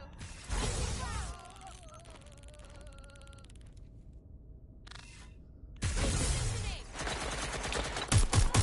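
Gunfire in the Watch Dogs Legion game, with bursts of rapid shots and clattering at the start and again near the end, separated by quieter mechanical noise and brief talk.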